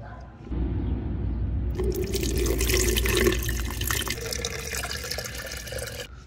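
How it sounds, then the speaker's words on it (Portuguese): Liquid and water pour in a steady splashing stream into a bottle while an orchid feed is mixed, starting with a soft trickle, then a louder, fuller flow for several seconds before it stops abruptly. "coloca numa garrafa, olha como é que ele é, olha lá, só isso, adiciona um litro de água"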